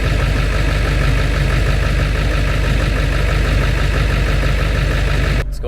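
A 2000 Ford F350 with a 7.3 diesel engine idles loudly and steadily, a deep continuous rumble nearby that cuts off abruptly at the end.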